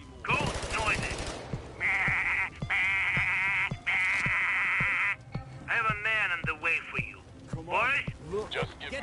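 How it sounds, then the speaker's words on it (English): Repeated bleating goat cries in the video game Payday, loud and close, in several drawn-out bursts with quick crackling pops between them and some background voices. "Just goat noises."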